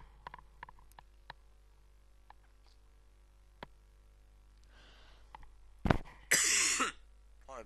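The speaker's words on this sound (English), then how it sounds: "Any coughing is just because I'm talking too much." A man coughs and clears his throat while playing a Harry Potter video game, a few faint clicks and small throat sounds leading into a sharp, loud cough and a rough follow-up near the end.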